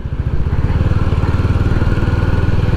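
A motorcycle engine runs loud and close with a steady pulsing throb, riding uphill on a mountain road toward Mirik, with no talk.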